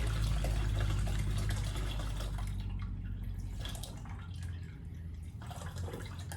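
Water poured into carrot juice to dilute it, a steady faint trickle and splash that thins out partway through, with no talk.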